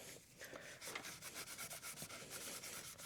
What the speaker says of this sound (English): I'm just gonna scuff it all up with a Scotch-Brite